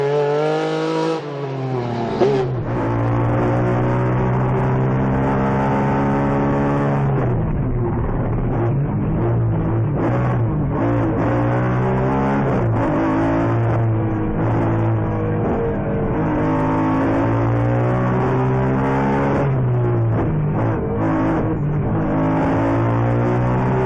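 A Lancia Stratos historic rally car drives hard on a forest rally stage, its engine loud and close, revving and shifting through gears with a steady, strained roar and a brief quieter lull near the start.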